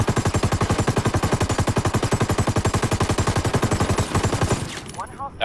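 Rapid automatic gunfire in the video game Ghost Recon Wildlands, a loud, steady burst of evenly spaced shots lasting several seconds before cutting off into brief quieter sounds.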